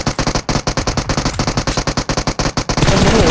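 Rapid automatic gunfire rattles in a shooting video game, a dense run of loud, evenly spaced shots that stops abruptly, leaving a noisy wash.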